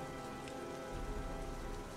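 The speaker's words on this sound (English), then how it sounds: "See, this is what I wanted, the rain ambiance while I was doing the introduction there." Rain ambience in the video game Heavy Rain: a soft, steady patter of rain striking surfaces, quiet and continuous with a faint low rumble underneath.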